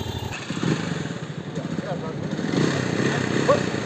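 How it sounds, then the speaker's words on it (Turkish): A motorcycle engine cranked on its starter and catching during a Class A licence riding lesson, a rough running engine close by with speech-like voices over it throughout. "Debriyaja basıyoruz. Şu marş, bu da marş. Böyle çalışıyor."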